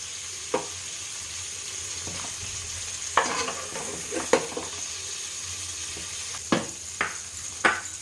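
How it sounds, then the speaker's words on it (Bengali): Prawns fry in hot oil while a spatula stirs them. Under a steady low sizzle, scattered scrapes and knocks against the pan come at irregular moments, close and clear, with no speech. "মাছটা বেশি ভাজবো না চিংড়ি মাছের যাতে ফ্লেভারটা তেলের মধ্যে চলে আসে"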